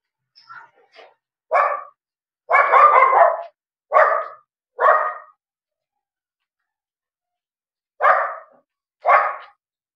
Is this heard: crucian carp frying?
no